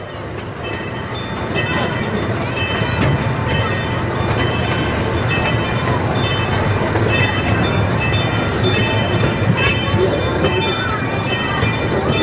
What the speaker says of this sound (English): There's the other train.